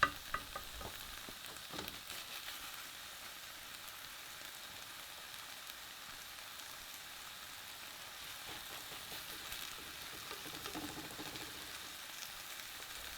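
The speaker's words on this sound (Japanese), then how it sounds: "玉ねぎ本来の 持っている水分でこのように剥がしながらどんどんキャラメリゼ、きつね色になるまで炒めていきます。" Onions sizzle steadily as they fry in a pot for French onion soup, caramelizing to golden brown, with occasional scraping and stirring sounds; a continuous, fairly quiet sizzle with no voices.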